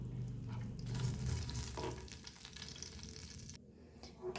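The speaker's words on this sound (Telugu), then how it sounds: "ఒక రెమ్మ కరివేపాకు వేసుకుందాం." A sprig of curry leaves dropped into hot oil with chana dal, urad dal and dried red chillies for a peanut chutney tempering sizzles loudly and continuously, with crackling spatters throughout.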